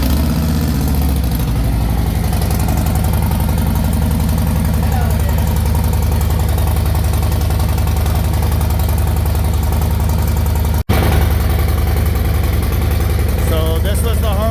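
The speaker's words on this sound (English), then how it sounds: "So this was the Harley on the dyno just the other day. We got the new exhaust on it." A Harley motorcycle with a new exhaust runs on a dyno, its loud, steady engine drone holding a constant pitch throughout, briefly cut by a single sharp break near the end.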